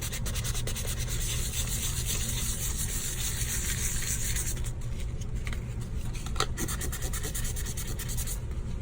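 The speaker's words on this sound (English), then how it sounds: "So this is sandpaper, a very high grit 400. You can see I've used it a lot, and I'm just going to sand that little area." A resin 3D print is sanded by hand with well-used 400 grit sandpaper, a continuous close rasping rub that keeps a steady back-and-forth rhythm throughout.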